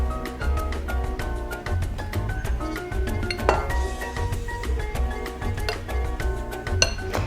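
Dry ingredients for gluten-free almond bread are mixed in a bowl, bright repeated clinks and scrapes of utensil against the bowl in an uneven rhythm over a low background hum, close up.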